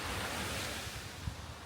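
Ocean waves wash onto a Florida beach in a steady, broad roar of surf, loud and close, with a faint gust of wind buffeting the microphone.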